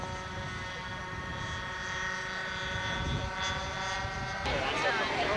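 A model P-51 Mustang aircraft at a model show, its engines droning in a steady tonal whine at high speed, heard at middle distance with the pitch rising and a brief rasp near the end.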